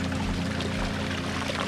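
Water pouring steadily at Galapitiyaya waterfall in Sri Lanka, a dense continuous rush heard close and loud with no breaks.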